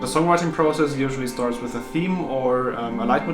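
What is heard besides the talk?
None of the usual background noises is heard.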